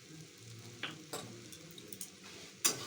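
Young jackfruit with turmeric is stirred gently in a pan, giving quiet scattered scrapes and light ticking taps of a spoon against the pan over a soft fry, ending in a sharper clink, with no speech.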